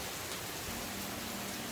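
Steady rain falls outside a farm house during typhoon season, a constant close hiss with no breaks and no voices.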